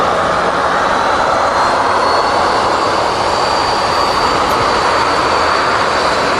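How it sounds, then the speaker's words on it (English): Malta Air Boeing 737 MAX jet touching down at Manchester Airport, a loud, steady roar of jet engines with broadband rushing noise, sustained throughout and heard alone. "something slightly rare just touching down there here at Manchester, a Malta Air 737 MAX 8200"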